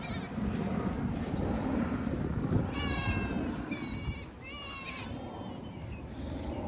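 Baby goats bleat on a farm among fruit trees in spring. Several wavering cries overlap over about two seconds against a steady, fairly loud background rumble.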